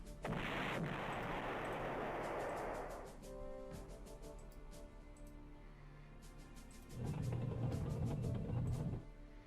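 Artillery shelling in the World War II strategy game Allied General, set in the North Africa campaign at El Alamein: two long, loud, rumbling barrages of shellfire with a quieter stretch between, and no talking.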